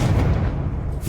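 The Confringo blasting spell in Hogwarts Legacy goes off as one loud, close explosion, a heavy rumbling boom that fills the whole moment with no talk over it.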